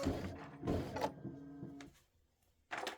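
An embroidery machine's thread cutter works after the cut button is pressed: a few short mechanical whirs and clicks, close and moderately loud, then a brief hum and a quiet pause before one last burst of mechanism noise.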